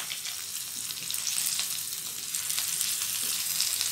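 Bitter gourd (karela) slices dressed with cumin fry in hot oil, giving a steady, close bright sizzle with crackling pops and no voices.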